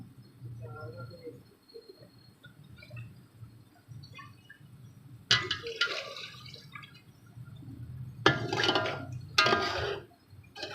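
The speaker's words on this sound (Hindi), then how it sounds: "और थोड़ा सा पानी हम और ऐड करेंगे इसके अंदर।" Water poured into a pot of beef yakhni pulao stock, splashing and trickling in bursts, with louder pours near the middle and end over a low background hum.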